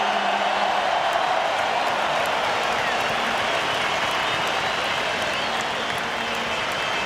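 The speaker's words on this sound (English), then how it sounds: "please keep your applause going as we welcome the entire team and their officials onto the stage as champions" Steady, dense applause from a large crowd welcoming the Melbourne Victory and Adelaide United grand final football team onto a stage, a continuous wash of clapping that holds at an even level throughout.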